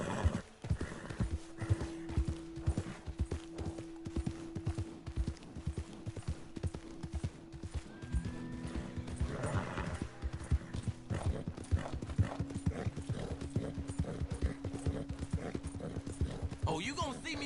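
Horse hooves clip-clop steadily throughout a Red Dead Redemption 2 ride, close and continuous, with a brief whinny partway and someone talking over much of it.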